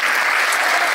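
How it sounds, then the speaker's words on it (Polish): Continuous applause fills a hall at a cultural centre's inaugural showcase of performing arts groups in Knurów, a dense steady clatter of many hands with no gaps. "tutaj mogą być brawa cały czas"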